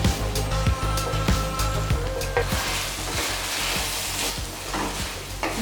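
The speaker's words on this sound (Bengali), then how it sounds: "এখন আমি এই ভাজা সবজিগুলো ওই যে মশলাটা তৈরি করছিলাম অন্য বার্নারে, তার মধ্যে মিশিয়ে দেবো।" Fried bell pepper and baby corn tipped into hot masala in a pan on the stove for a bell pepper baby corn dish, giving a steady loud sizzle with clattering stirs and scrapes throughout.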